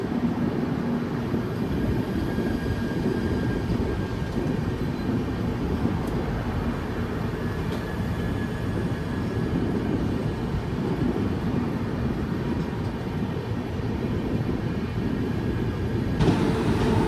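Trains at the Secunderabad outer, with the Godavari Superfast Express standing alongside: a steady, loud rail rumble and hum that holds evenly for the whole stretch, with no talking.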